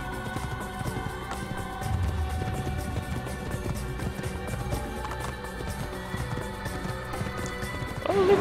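In Assassin's Creed, horse hooves gallop in a quick, steady clip-clop rhythm over a continuous game soundscape, moderately loud and without talk.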